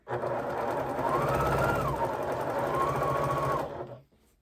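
A sewing machine stitches a quilt seam along seam tape in one continuous, fast mechanical whir for about three and a half seconds, with a slight rise in pitch midway, before stopping abruptly.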